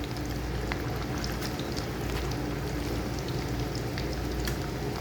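Pakoras fry in hot oil for kadhi pakora, giving a dense, steady sizzling hiss with fine crackles close by and no voices.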